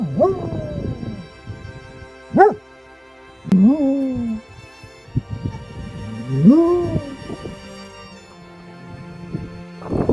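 A senior dog sits at a gate and howls in several long, wavering, rising-and-falling cries separated by pauses, close and fairly loud, with a sharp yelp partway through.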